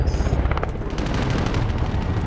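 Rapid bursts of gunfire from an Apex Legends or Call of Duty match rattle loudly over a dense, booming game soundscape, with quick repeated shots throughout the short stretch.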